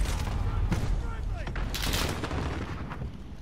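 Repeated gunshots from dual pistols in the western shooter game Yee Haw: Calamity, sharp loud cracks in close succession over a busy game soundscape, with someone speaking.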